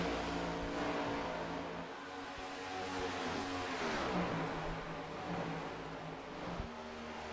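Race cars at Kansas Speedway scream past in a steady, loud roar of engines, with pitch sweeping as one car chases down a lapped car.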